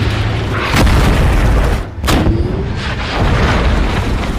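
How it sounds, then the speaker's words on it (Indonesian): Heavy tank cannon fire on a target in a war film, a loud booming blast early on and a second sharp shot with a long rumbling tail, dense and close over a steady low background. "mereka menguji tank baru tersebut dengan menembak target."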